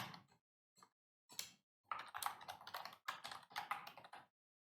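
Computer keyboard keys tapped in short bursts, then a denser run of rapid, close clicks as a name is typed, each burst separated by brief silence.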